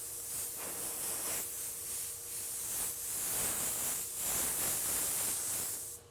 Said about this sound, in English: So you want that airbrush to keep going.